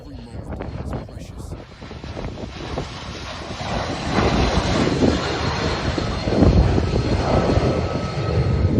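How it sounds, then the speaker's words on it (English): An aircraft drones overhead while dropping fire retardant on a wildfire, a rising engine roar mixed with heavy wind buffeting on the microphone. "Plane dropping fire retardant."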